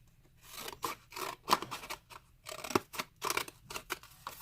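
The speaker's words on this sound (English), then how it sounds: "I'm gonna go ahead and cut it out." Scissors cut out a paper tag bookmark in a craft session, a close, crisp series of snipping and rasping strokes in irregular bursts with brief pauses, heard alone in a quiet room.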